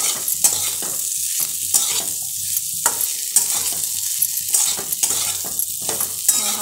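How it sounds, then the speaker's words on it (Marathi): Potatoes sautéing in a pan for a dry spiced potato dish, a loud close hiss of frying broken by frequent metal spatula scrapes and stirs in an uneven rhythm. "आता आपण बटाटे परतून घेऊयात."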